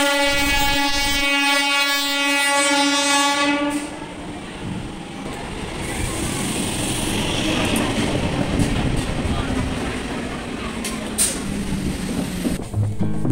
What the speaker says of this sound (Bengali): এই তো ট্রেন মনে হচ্ছে আসছে